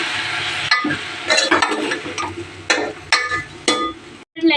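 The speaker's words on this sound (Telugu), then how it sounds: "కలిపేసుకుందాం" Tomato and tamarind chutney stirred in a pan for a pickle, a spoon scraping and clinking against the pan in irregular strokes over a soft sizzle, with one brief pause near the end.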